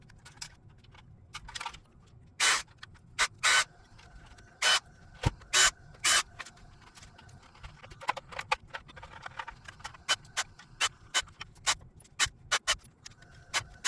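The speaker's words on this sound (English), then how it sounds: "First, disassemble the chassis to replace parts." Parts of a Tamiya DT-03 RC car chassis clack and tick during disassembly, sharp isolated clicks coming in irregular bursts over a quiet background, close and fairly loud.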